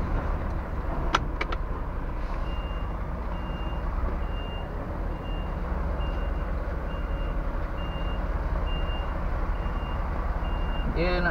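A truck and trailer reverses repeatedly out of a tight, slightly hilly site, its steady rhythmic reversing beeps sounding over a continuous heavy engine rumble, with a couple of brief clanks near the start.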